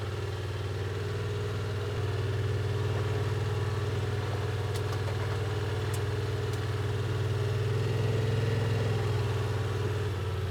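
A 2026 Yamaha Wolverine X2 Utility side-by-side runs in low range and four-wheel drive on a trail, its engine a steady, even drone heard from the cab with no change in pitch and no voices.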